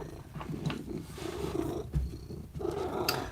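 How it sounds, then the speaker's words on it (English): A house cat purrs steadily and close up, a soft continuous rumble with a few faint rustles and small bumps over it, and no talking. "Lucky, this is my cat Lucky, and he's going crazy."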